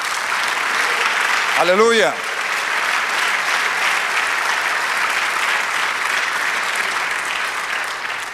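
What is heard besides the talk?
church congregation applause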